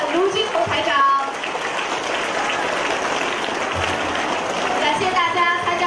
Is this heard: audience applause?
yes